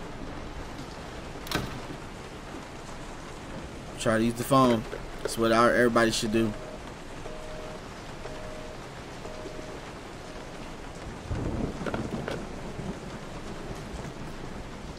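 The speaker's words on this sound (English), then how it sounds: "It's raining." Steady rain hisses with occasional low thunder rumbles in the video game Resident Evil 7, with a voice talking briefly over the storm and a distant rumble rolling in near the end.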